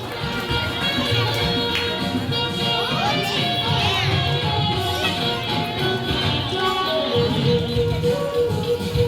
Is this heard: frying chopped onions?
no